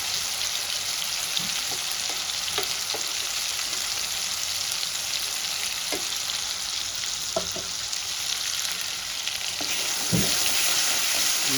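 Ground ginger, garlic and green chili paste fries in a pan for a Bengali cabbage dish with catla fish head, a steady close sizzle with scattered soft scrapes and clicks, and no voices.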